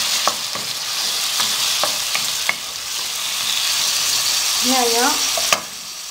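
Onion and tomatoes frying in a pan with aubergine, a steady close sizzle running throughout, broken by a few sharp stirring clicks and a brief squeak near the end.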